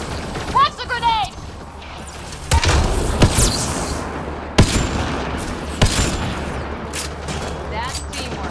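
Grenade explosion in the game Mass Effect: Andromeda on Insanity difficulty: sharp booms and bursts of gunfire over steady combat noise, with game character voices in between.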